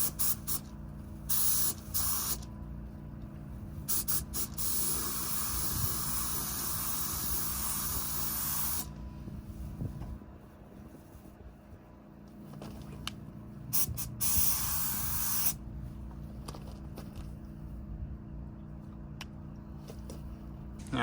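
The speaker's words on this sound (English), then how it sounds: "we can go ahead and spray the color and then the clear" A spray gun lays color coat onto a 2018 Ford Ecosport Titanium at low pressure, a steady airy hiss in long bursts broken by brief pauses, close and continuous.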